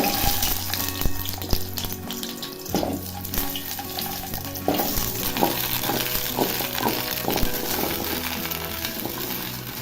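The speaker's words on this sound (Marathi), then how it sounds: "आता धुवून स्वच्छ घेतलेले हे आवळ या तेलामध्ये टाकायचं आहे" Washed amla (Indian gooseberries) frying in oil for a traditional pickle, giving a steady bubbling sizzle with intermittent clinks and stirring knocks of a utensil.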